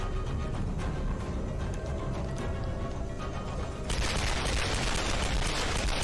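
Gunfire in the video game Tomb Raider, a dense fusillade of rapid shots that stays loud and continuous throughout, growing harsher and brighter in the second half.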